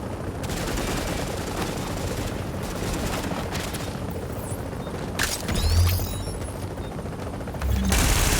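Automated turret in The Division firing steady bursts of gunfire in the Dark Zone at night, a dense continuous rattle with heavier booms near the end.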